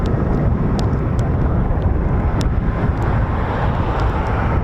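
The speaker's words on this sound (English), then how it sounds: "And those mesmerizing rotors." A US Air Force CV-22 Osprey tiltrotor's pair of 38-foot rotors makes a steady, dense roar that fills the whole clip, buffeted by wind against the microphone, with no talking.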